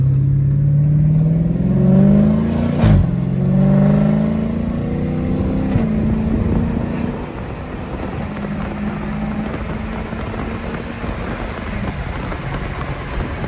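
Dodge Challenger Scat Pack V8 with mufflers refitted at the tips, revving on light throttle: a loud, deep exhaust rise and fall near the start, easing to a steady rumble and drone.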